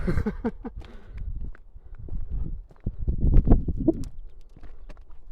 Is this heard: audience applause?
no